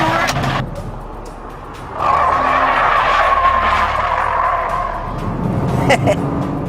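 A Nissan GT-R on nitrogen-filled tyres squeals steadily and loudly through a high-grip cornering test, the skid holding for several seconds over engine noise before easing off, with a voice heard faintly in the mix.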